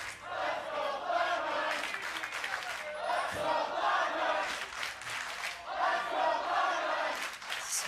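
A large arena crowd at a League of Legends esports match, Cloud9 versus FlyQuest, roars and chants team names in a loud, continuous wall of voices, rising and falling in waves.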